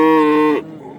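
A cow at a Sunday livestock market gives one loud, close, tonal moo that stops abruptly after about half a second, followed by quiet background noise.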